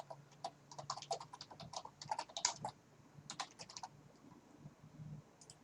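Quick, uneven bursts of keystrokes on a computer keyboard as an email address is entered, close and fairly faint over a low background hum.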